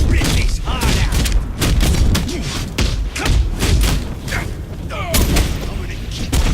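Batman Arkham Knight combat plays out in a rapid barrage of gunshots, thuds and booming impacts, loud and continuous, with game voices shouting over the fighting.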